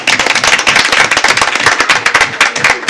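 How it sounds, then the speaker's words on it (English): Applause from an audience at a school board meeting comes as a brief burst of dense, crackling claps. It is loud and close, and no voices are heard over it. "How about a round of applause for these guys?"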